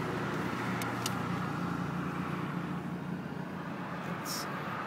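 2006 Nissan Titan crew cab 4x4 truck engine runs on the move with the windows down, a low steady drone mixed with wind and road rush throughout.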